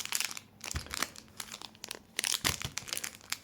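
Crinkly plastic packaging of a sticker set being unwrapped up close, with bursts of rustling, crackling and tearing in quick irregular handling.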